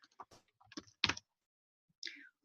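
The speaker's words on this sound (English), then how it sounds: "You start typing my name." Name being entered on a computer keyboard at a class check-in desk: a few quick, near clusters of key taps with short pauses between them, no voices.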